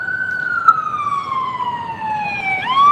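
A single siren wails in a long, slowly falling tone, then sweeps back up sharply near the end, loud over faint traffic rumble.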